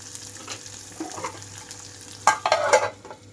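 Onions and a dried red chili fry in a pan, with a soft continuous sizzle under a low hum, then a louder burst of crackling and stirring that lasts about a second.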